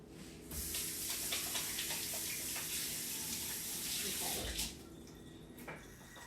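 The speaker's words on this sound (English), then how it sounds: "Let me wash my hands real quick." A kitchen tap runs steadily while hands are washed beneath it during home bread baking, a close, full rush of water for several seconds that tapers and briefly splashes near the end.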